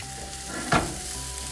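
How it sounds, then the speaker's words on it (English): Food sizzles in a hot pan as a utensil stirs it, a close crackling hiss that rises in a brief scraping burst and then settles back to a steady fry. "I'm going to stir this around so you can see it."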